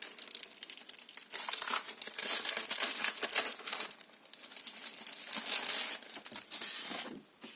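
Scrapbooking paper collection being unwrapped, close and steady crinkling and tearing of plastic packaging that goes on for several seconds without pause.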